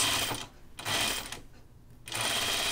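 A sewing machine stitches French seams on a Grainline Studio Archer button-up shirt in close, loud whirring bursts, running in three runs separated by short pauses.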